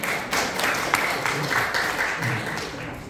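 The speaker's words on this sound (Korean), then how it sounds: "여러분, 다시 한번 큰 박수 주십시오" Audience applause fills a convention hall ceremony, a dense, moderately loud patter of clapping that holds steady and fades slightly at the end.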